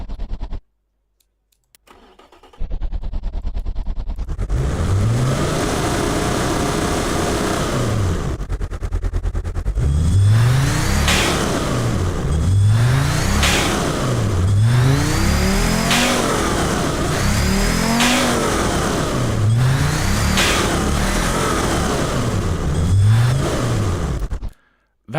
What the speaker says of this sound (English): Jet engine car. It is a weird sound. It sounds like a rally car on steroids. It's got no mufflers or anything.